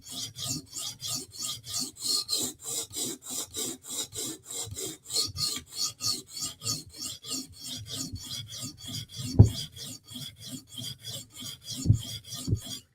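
A knife blade is stroked back and forth across a whetstone in a steady, even rhythm of rasping scrapes, close and clear, with a couple of louder knocks near the end and no voices.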